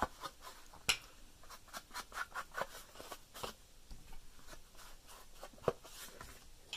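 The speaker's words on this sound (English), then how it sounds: "I'm just going to quickly ink the edges. Of my card base." Ink applied to the edges of a vintage photo card base with quick repeated dabbing and scraping strokes, close and quiet, a run of short taps and rubs with no talking.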